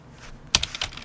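A computer keyboard with a faulty Korean input setting is typed on in a short burst of close, crisp key clicks, a few quick strikes after a brief quiet lead-in, with no voices.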